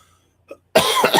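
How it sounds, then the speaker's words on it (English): A single short cough, close and sharp, after a brief faint sound in near silence. "I got a little cough."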